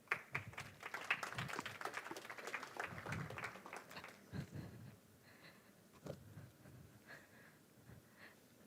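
Audience applause at a TEDx talk event, a dense burst of many hands clapping that holds strong for about four seconds, then thins into scattered claps and fades by the end.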